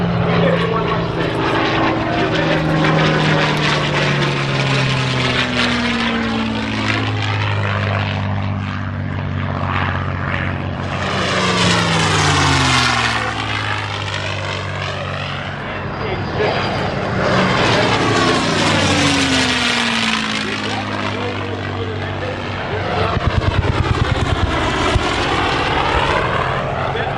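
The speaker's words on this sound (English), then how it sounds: "fighter making pass now" A P-51 Mustang fighter plane makes a low pass at EAA AirVenture Oshkosh, its loud propeller engine roaring and swelling in waves as it sweeps past. An announcer speaks over it.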